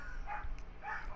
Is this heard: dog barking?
yes